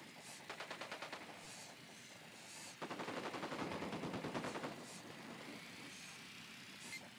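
Rapid automatic gunfire bursts in Ghost Recon Wildlands: a short rattling volley, a pause, then a longer sustained burst over a low background rumble, fairly quiet overall.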